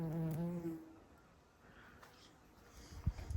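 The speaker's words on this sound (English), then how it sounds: "There's a bee at the top there visiting, which is probably a garden bumblebee or white-tailed bumblebee" A garden bumblebee or white-tailed bumblebee buzzes close by in a walled garden, with a brief humming tone in the first second. Quiet outdoor ambience follows.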